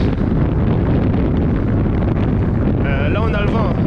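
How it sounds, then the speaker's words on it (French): Strong wind buffets the microphone on a seaside coastal road during a long-distance cycling ride, a loud continuous rumbling roar, with a brief whistling tone near the end. "Là, on a le vent. On est bien sur le bord de mer."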